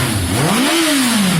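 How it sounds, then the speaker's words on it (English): A single strong rev of a motorcycle engine, pitch climbing then easing back down, loud and close. "It's revving very strong."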